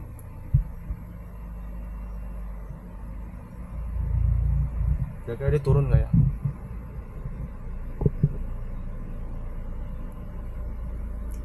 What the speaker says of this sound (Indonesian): Kipas radiator jalan terus ya guys ya.